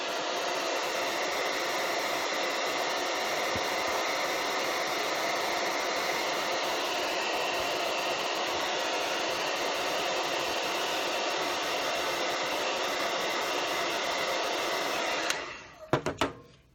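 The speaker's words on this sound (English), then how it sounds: "And then here comes my hair dryer again." A hair dryer blows loudly and steadily at close range, a continuous airy roar that cuts off abruptly near the end.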